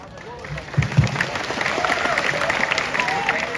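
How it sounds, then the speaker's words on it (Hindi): A crowd breaks into applause after a speech, a dense wash of clapping that swells after a moment and continues steadily with some voices mixed in. "आज आप सबके लिए तालियां।"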